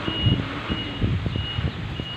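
A metro delivery truck bringing a large parcel reverses nearby, its engine rumbling low under a steady, repeating reversing beep that carries clearly across the short stretch.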